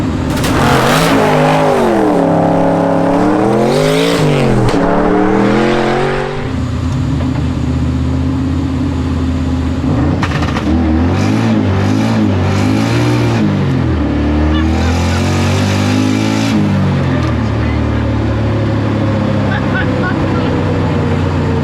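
A twin-turbo V8 engine in a Subaru Justy revs up and down repeatedly, rising and falling roars with a whooshing turbo rush from short wastegate tubes, loud and close, with voices talking underneath.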